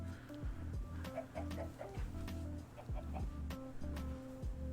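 Chickens in a modded Minecraft 1.12 game cluck in a series of short, soft clucks over a steady low in-game drone, with some faint clicking in the background.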